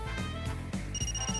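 A phone ringing in the Far Cry game, a bright repeating electronic trill pulsing steadily over game music and background noise.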